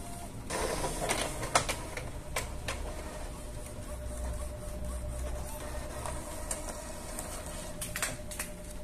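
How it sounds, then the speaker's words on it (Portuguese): An inkjet printer prints a nozzle check pattern, giving faint, quiet mechanical clicks, ticks and a whirring carriage shuttling back and forth in irregular bursts. "Imprimiu aqui a verificação de jatos."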